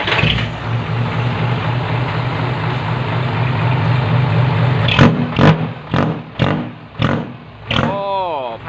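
Mega 500 motorcycle with a custom exhaust pipe idles with a steady low rumble, then several sharp throttle blips rise and fall in quick succession near the end, close and loud, while a voice talks over the idle.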